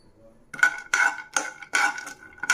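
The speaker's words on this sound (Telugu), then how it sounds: "నెయ్యి కొంచెం వేడయ్యాక ఇప్పుడు కాజు వేయించుకోవాలి" Cashews frying in hot ghee in a pan, heard as a series of sharp metallic clinks and scrapes of a utensil against the pan, in about five bursts, close and fairly loud, with no talk.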